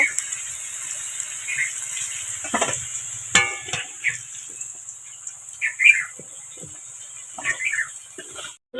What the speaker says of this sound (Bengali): বড়িগুলো একটু ভেজে নিচ্ছি